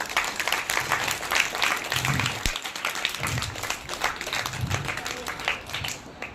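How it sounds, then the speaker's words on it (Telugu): A group at a summer camp meditation session claps together in a sustained, even burst of applause, loud and close, with some voices mixed in. "క్లాస్ కొట్టండి అందరూ"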